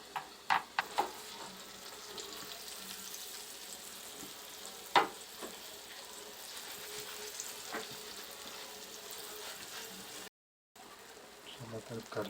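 Kurli fish frying in a pan in a Konkani-style kitchen, a steady close sizzle and crackle running throughout with occasional sharper pops and brief clatters, ending in a short silence before the frying resumes.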